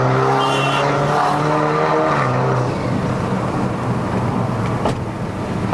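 A BMW F30 320i LCI, tuned to 330 hp, accelerates uphill on the Genting mountain road in Malaysia; the engine note climbs steadily in pitch, then gives way to loud road and wind rush.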